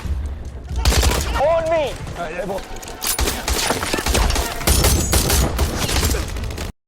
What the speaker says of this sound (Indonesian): adu tembak pun tidak terhindarkan